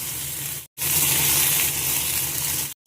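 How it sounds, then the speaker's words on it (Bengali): Vegetables (potato, brinjal, radish) frying in hot oil with dried red chilli and panch phoron, a steady close hiss and sizzle broken by two brief silent gaps. "একটু শুকনো লঙ্কা ফোড়ন দিলাম আর একটুখানি 5 ফোড়ন দিলাম, আর সবজিগুলো একটু ভেজে নেবো"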